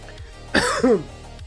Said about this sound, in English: Sorry, I didn't mean to cough directly into the microphone